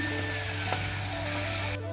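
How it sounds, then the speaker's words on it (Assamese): Tomatoes sizzling in hot oil with green chili, turmeric and salt, a steady close frying hiss that runs on without a break and cuts off abruptly near the end. "ইয়াত বিলাহী দি দিছোঁ এনেদৰে ভাজি লোৱাৰ পিছত অলপ বিলাহীটো গলিবলৈ দিম"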